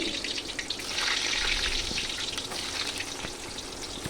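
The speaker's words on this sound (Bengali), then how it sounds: "কড়াই তেল দিয়ে দিলাম সিদ্ধ করা আলুটাকে ভালো করে ভেজে নেব" Boiled potatoes frying in hot oil in a wok give a steady, fairly quiet hiss and crackle that swells slightly midway and carries on unbroken.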